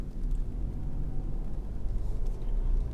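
Engine of a 2017 Ford Fiesta 1.25 Zetec labouring uphill in third gear, a steady low drone and rumble heard from inside the cabin, with no talk over it.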